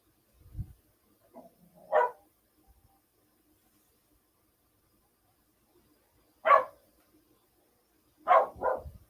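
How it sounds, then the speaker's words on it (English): Dogs bark in short, separate bursts at a distance, with long quiet gaps between a few single and double barks, as coyotes start howling nearby. "you're going to be hearing my dogs barking here shortly"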